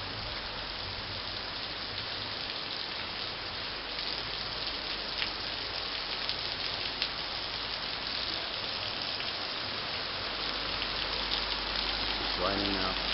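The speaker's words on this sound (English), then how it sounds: "Raining now." Rain falls steadily in a lush garden-like setting in Indonesia, a dense, even hiss of drops on surfaces that stays constant throughout at moderate loudness.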